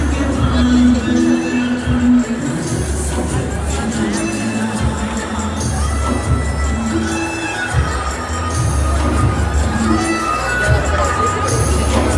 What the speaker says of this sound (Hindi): अभी भी बहुत ही भीड़ है।